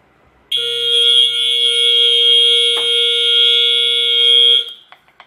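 A fire alarm sounds after a smoke detector spray test, a loud, steady high-pitched electronic tone that starts abruptly, holds for about four seconds, then cuts off, followed by a few faint clicks.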